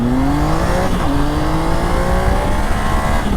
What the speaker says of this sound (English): I'm just going to accelerate hard to 110